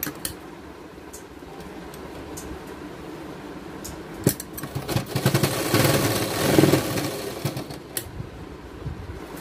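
Domestic sewing machine stitching decorative cord onto a baby gown: a soft rattling run of stitches that builds into a louder, faster mechanical whir midway, then slows and stops.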